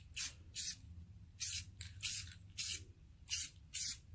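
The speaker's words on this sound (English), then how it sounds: "a lot of sprays to get down in there" A can of black spray paint hisses in short, close bursts onto a wooden sign, about eight quick sprays in an uneven rhythm with quiet gaps between them.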